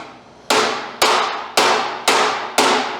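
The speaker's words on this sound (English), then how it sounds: "One whack with a hammer, ready?" Five loud, evenly spaced hammer strikes ring sharply on a hardfaced metal bolt, each clang decaying before the next.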